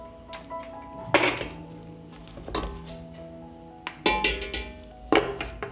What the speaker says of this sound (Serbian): Tegle stavljam u ekspres lonac.